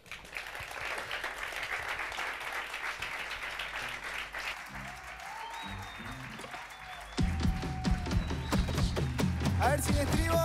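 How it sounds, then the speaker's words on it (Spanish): Audience applause at a live folk concert, a steady wash of clapping running throughout, with musical tones and rhythmic strumming entering over it partway and the sound growing louder near the end. "Un aplauso."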